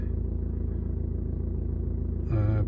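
A 2014 BMW 3 Series F30 engine runs just after starting, a steady low idle rumble heard from close by, with a brief higher tonal chime near the end.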